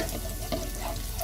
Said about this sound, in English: For about 30 seconds, just fry it in the pan